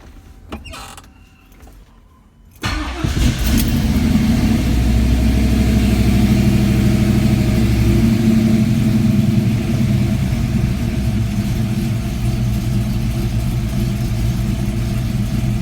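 A car engine fitted with EFI cranks from a very cold start after a few seconds of quiet, catches, and settles into a steady, loud, even idle close to the microphone.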